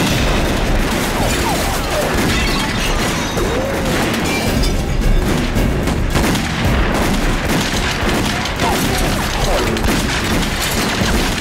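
Gunfire rings out in a TV spy-drama shootout against Japanese agents in old Shanghai: a dense, continuous barrage of loud overlapping shots and booms that fills the whole stretch without a break.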